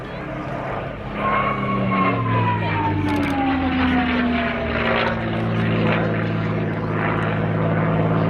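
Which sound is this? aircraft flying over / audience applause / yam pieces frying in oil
aircraft flying over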